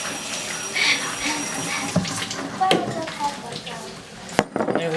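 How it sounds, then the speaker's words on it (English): Tap water runs in a home kitchen while hands are washed, with splashing and gurgling that shifts in strength and a clatter near the end. "Wash my hand."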